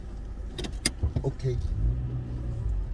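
A school bus passes by a car, a low engine rumble swelling and holding toward the end while a person inside the car talks briefly.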